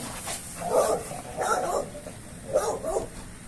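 American Bully dogs bark in three short bursts of several barks each, close and fairly loud, with brief pauses between them.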